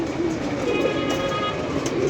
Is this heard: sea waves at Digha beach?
no